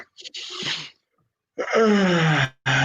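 A person's voice imitates waking up with a yawn: a breathy exhale, then a long drawn-out voiced yawning groan that falls in pitch, close and fairly loud, with a brief breath at the end.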